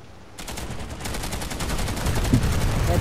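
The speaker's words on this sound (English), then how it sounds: "Of course I've got the shotgun. Shotgun's always nice." Shotgun fire rings out in Planetside 2, a dense run of rapid loud blasts over a noisy battle backdrop, growing heavier toward the end with no clear talk.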